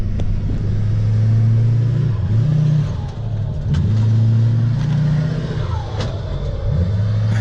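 A Duramax diesel pickup truck revs hard while climbing, its deep engine drone rising and falling in several surges, loud and close throughout.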